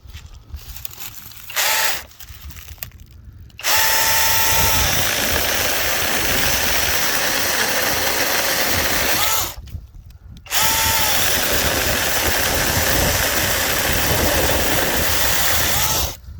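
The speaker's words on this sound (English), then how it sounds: "Let's try the other one, the noisier one." A battery-powered electric mini chainsaw running on a Dewalt 20V battery whines loudly and steadily in two long bursts, with short quieter gaps and brief revs at the start.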